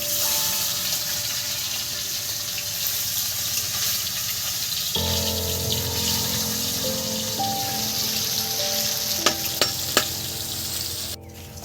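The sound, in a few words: katla fish pieces frying in oil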